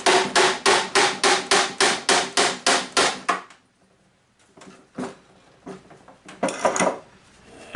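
Rapid, evenly spaced hammer blows ring out loud and metallic on metal tabs while scrapping a Toyota Prius Gen 3 inverter, about ten in a row, then a pause followed by a few scattered knocks and scrapes.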